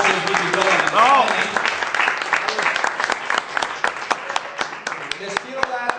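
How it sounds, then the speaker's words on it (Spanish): Audience at a business event in Madrid applauding a new team of partners, dense clapping that thins into scattered claps, with a voice speaking over it. "Vamos a dar un fuerte aplauso a este equipo"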